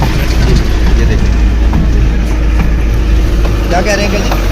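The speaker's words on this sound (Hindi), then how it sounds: "आप हमारी गाड़ी की आवाज़ भी सुन रहे होंगे, ये भी हमने स्नो चेन लगाई।" A vehicle fitted with snow chains drives along a snowy mountain road in Kalam, Swat, giving a loud, close, continuous rumbling roar with people talking over it.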